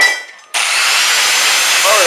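A power tool bursts on after a short quiet moment and grinds loud and steady, taking rust scale off a thick steel pipe up close.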